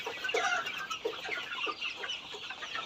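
Chickens on a poultry farm cluck in short, scattered calls, fairly close but quiet, against a soft background hiss with no voices.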